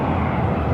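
A Boeing 767 airliner at Phoenix airport gives off a loud, steady broadband jet engine roar, close and continuous throughout.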